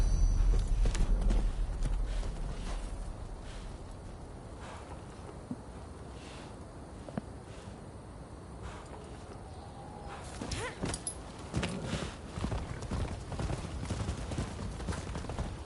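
Hooves clip-clop steadily at a walking pace in Rise of the Ronin on PlayStation 5, over a soft background rumble, moderately close, with no one speaking.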